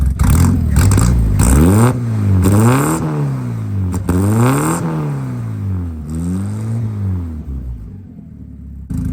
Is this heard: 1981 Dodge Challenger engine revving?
yes